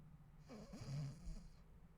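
A narrator imitates a woman breathing happily in her sleep, voicing one soft, drawn-out, snore-like breath, quiet and close.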